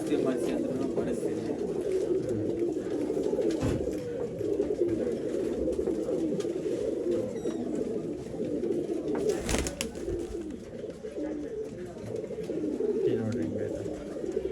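Pigeons coo in a loft around a Dhooma Trevel male pigeon, a continuous low murmuring coo that runs throughout, with people talking over it.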